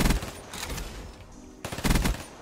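A DLC submachine gun in the video game Black Ops 3 fires in short rapid bursts, loud and close, with a brief lull between volleys.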